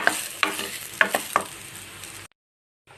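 Chana dal frying over a medium flame in a pan, with a steady hiss broken by several sharp scrapes and clinks of stirring, then cutting off abruptly into near silence before a faint return.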